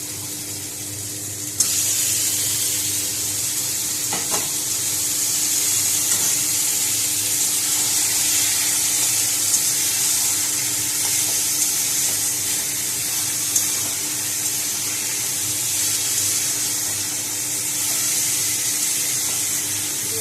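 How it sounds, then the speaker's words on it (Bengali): Marinated chicken stirred into masala that has fried until the oil separates, for chicken polao: a broad, continuous hiss of sizzling that stays steady throughout, with an occasional faint clink of the spoon. "এবার আমি একটু ম্যারিনেট করা চিকেনটা এর মধ্যে মিশিয়ে দিচ্ছি।"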